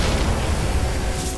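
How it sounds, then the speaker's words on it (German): A loud, rumbling explosion in the video game Magicka with a deep boom that fills the whole moment, dense and sustained with no voices. "Der ist explodiert."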